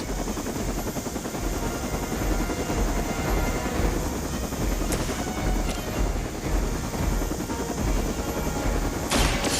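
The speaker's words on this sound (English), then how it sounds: "That helicopter's about to take off" Helicopter taking off in the video game Marvel's Midnight Suns, a dense, steady roar of rotor and engine noise with faint sharp cracks near the end, no voices.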